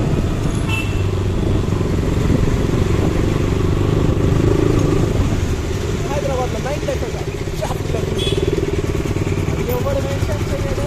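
KTM Duke 200 BS3 motorcycle riding through city traffic, its engine droning steadily and close, with surrounding vehicles and a brief horn in the background.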